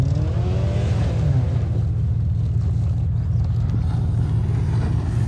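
A truck engine on a dirt race track rumbles loud and close with a deep steady throb, a brief rising rev early on, then settling into a continuous low drone.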